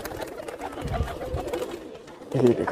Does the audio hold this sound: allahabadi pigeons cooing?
yes